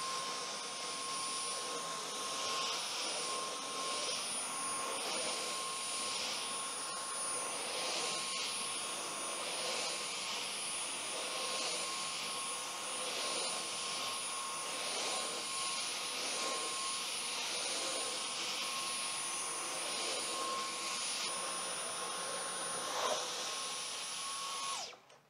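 A Dyson Cyclone V10 Animal Extra cordless vacuum cleaner cleans a mat, a loud, steady high-pitched whine with a broad whooshing roar that runs unbroken, close up, before stopping right at the end.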